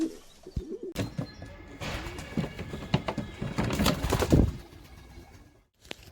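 Pigeons coo softly amid fluttering and scuffling, with a few sharp knocks and rustles, close by, ending in a brief quiet gap.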